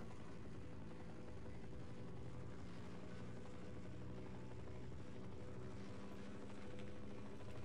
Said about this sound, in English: That helicopter can go screw itself.